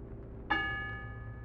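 A single bell struck once by pulling a cord gives a clear ding that rings on and slowly fades, heard alone with no talk.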